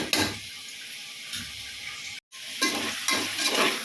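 Chicken being stirred with masala in a pan while making biryani, giving scraping, sizzling stirs in short bursts with a brief break in the middle, close and fairly loud with no talking.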